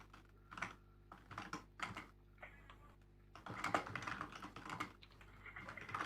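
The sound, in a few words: typing on a computer keyboard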